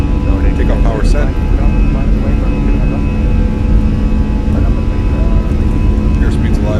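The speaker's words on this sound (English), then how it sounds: "Takeoff power set." Airbus A320 jet engines roaring at takeoff power in Microsoft Flight Simulator, a loud steady engine drone beneath a voice calling out the takeoff.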